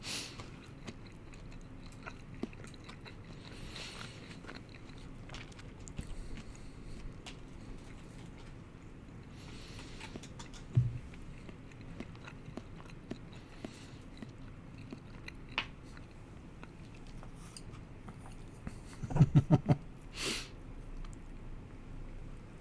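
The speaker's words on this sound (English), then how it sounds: "Sorry, there's a lot of chewing." Close, wet chewing and occasional crunchy bites during a livestream, soft and intermittent over quiet room noise, with a louder burst of mouth sounds near the end.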